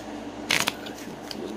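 A quick riffle of tarot cards being shuffled, one short crisp burst of flicking paper followed by a few faint taps in a quiet room.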